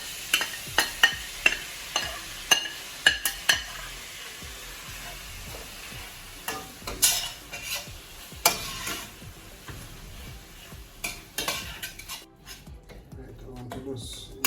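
Ground beef frying in a pot for Jamaican beef patty filling with soy sauce and browning, a steady close sizzle broken by repeated scraping stirs and taps of a utensil, with a voice talking over parts of it.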